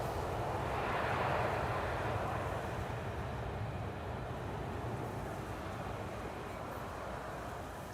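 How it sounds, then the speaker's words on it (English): An Atlas Air jet arriving on Schiphol's Polderbaan runway makes a distant, steady engine roar that swells slightly early on, then fades gradually as it passes. "Atlas Air arriving from Miami, Florida"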